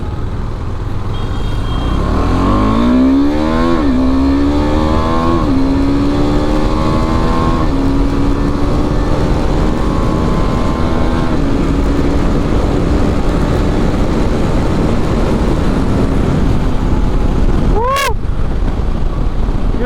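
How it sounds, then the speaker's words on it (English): A KTM 390 Adventure motorcycle accelerates hard: the engine note climbs again and again through quick gear changes over heavy wind roar, loud and steady on board, with a brief sharp rise near the end. "I'm secretly happy inside because I'm going to get to gun the bike."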